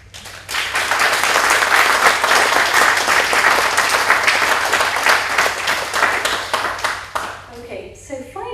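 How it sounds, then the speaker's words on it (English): A conference audience applauds at the closing plenary, a loud, dense, sustained round of clapping from many hands lasting several seconds before tapering off, with a voice briefly audible at the end. "then we'll applaud them"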